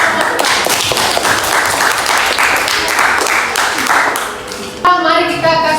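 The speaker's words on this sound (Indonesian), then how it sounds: "tepuk tangan untuk kelompok" Schoolchildren in a classroom applaud a student group, with loud, busy clapping from many hands for several seconds, then a voice starts speaking as the clapping fades.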